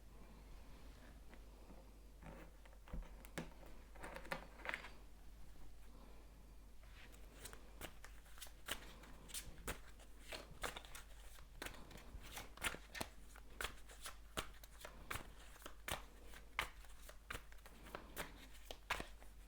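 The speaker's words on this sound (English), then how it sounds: "I'm going to shuffle some of these Gypsy Oracle cards" Gypsy Oracle cards being shuffled by hand, a steady run of crisp riffling and flicking snaps that picks up pace midway, close and fairly quiet with no talking.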